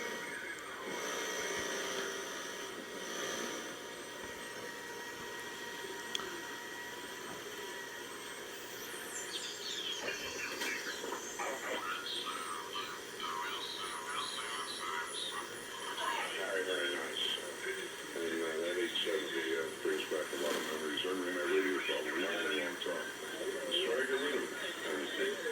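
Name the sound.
shortwave radio receiver noise and out-of-band signals, RF gain adjusted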